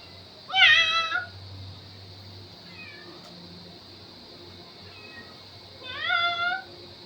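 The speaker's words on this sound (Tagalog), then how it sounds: "There's too many cat here." Cats meow close by during an outdoor milkfish grilling session, two clear drawn-out calls several seconds apart with faint fainter mews between them, no talking over them.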